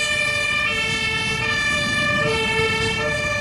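A toy fire truck siren plays a bright electronic wail with steady tones, loud and close, sustained without pause until it cuts off at the end.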